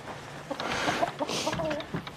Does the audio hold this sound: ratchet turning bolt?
no